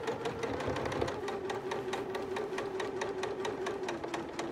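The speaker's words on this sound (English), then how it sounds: "I'm going to sew right through my pins" A sewing machine stitches a quilt block, running steadily through pins with a close, even motor hum and rapid regular needle ticks that never pause.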